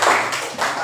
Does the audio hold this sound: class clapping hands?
yes